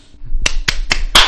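Four sharp hand claps spaced fairly evenly, close and loud, with the last one the strongest.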